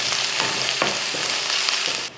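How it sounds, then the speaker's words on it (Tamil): Onions and curry leaves sizzle and crackle steadily in hot oil, a loud, dense frying hiss with small stirring scrapes, stopping abruptly near the end. "கொஞ்சம் கருவேப்பிலை, வெங்காயத்தை நல்லா வதக்கிடலாம்."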